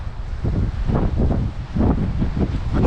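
Strong wind buffeting a camera microphone outdoors, loud, rumbling gusts swelling and easing in uneven pulses with no voices.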